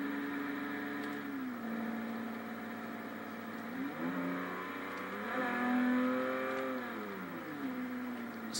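A 1995 Volkswagen Corrado VR6 in normal driving, its engine humming steadily at moderate volume from inside the car, pitch rising and falling through gentle gear changes; no talking.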